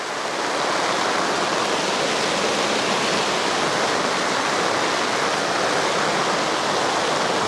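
Heavy storm rain pours steadily onto a pop-up camper and its canopy, a loud, dense, unbroken hiss that holds at full strength throughout.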